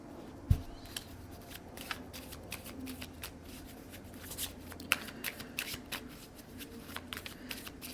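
Tarot cards being shuffled by hand, a soft steady riffling and flicking close up with occasional sharper taps, quiet and continuous with no talk.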